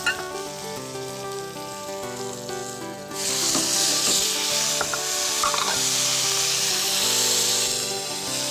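Drained Niçoise olives and garlic sizzle loudly in a hot pan, with a steady frying hiss that swells as the pan is quickly tossed, accompanied by scraping and clattering stirs.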